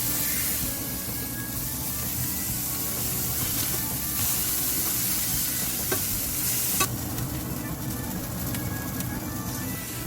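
Minced meat sizzles steadily as it browns in a pan, a dense continuous frying hiss with scattered pops and occasional scrapes throughout, close and loud, with no talking.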